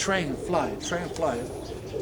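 Roller pigeons coo in soft, repeated rolling calls close by, several overlapping bursts over a couple of seconds with someone talking in the background.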